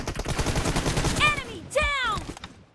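Rapid bursts of gunfire from the mobile shooter PUBG Mobile rattle in quick succession during a team deathmatch, with a voice talking over and after the shots.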